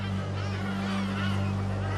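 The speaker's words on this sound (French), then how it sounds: "là où se chevauchent les aires de reproduction des oiseaux de mer et de ceux des marais, le vacarme est parfois assourdissant" A dense, continuous din of nesting seabirds and marsh birds in the Danube delta, with honking, goose-like calls layered into a steady, loud wall of sound and no clear gaps.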